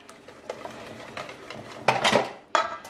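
Coconut sweetbread batter is mixed in a bowl, with soft stirring and scraping broken by a few louder clattering knocks of the utensil against the bowl, close and without talk.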